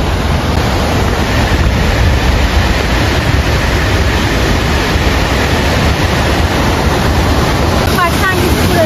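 A large waterfall roars steadily at a campsite on a Black Sea coast tour, a dense, unbroken rushing of water mixed with wind buffeting the microphone, loud and constant throughout with no one speaking.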